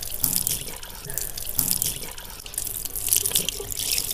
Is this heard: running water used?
yes